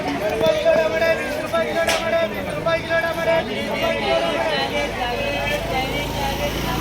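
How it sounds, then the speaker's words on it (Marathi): Dense crowd babble fills a packed Indian vegetable market, steady and close, with many overlapping voices, brief clatters and a few louder calls rising above the general din. "आम्ही आलोय भाजी मंडईमध्ये गच्च गर्दी आहे खूप गर्दी"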